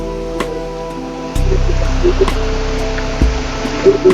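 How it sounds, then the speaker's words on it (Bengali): Heavy rain falls on a pond in a constant loud rushing wash that swells after a quiet opening second, with a few faint knocks and tones underneath. "এইদিকে দেখা যাচ্ছে আরো বেশি বৃষ্টি পুকুরে সেই জোরে বৃষ্টি হচ্ছে"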